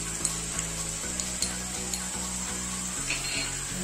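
Spices such as red chilli powder, turmeric and garam masala sauté in a hot pan for Kolhapuri misal, a steady close sizzle with faint stirring scrapes throughout.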